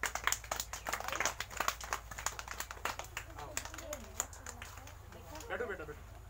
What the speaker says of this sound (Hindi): देखो दो बड़ी दीदी आ गई, इनके लिए भी ताली बजाओ।